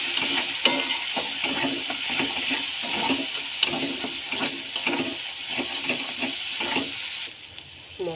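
Salt with chili, cumin and turmeric powders is sautéed in a pan for a cabbage and katla fish-head curry, a close sizzle with a constant rhythm of scraping stirs that fades at the end.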